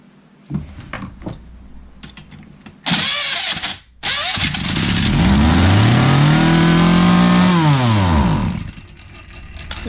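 A McCulloch Mac 120 chainsaw is pulled over with a couple of short bursts, then fires up and roars loudly, revving up and back down in a long sustained run before cutting out.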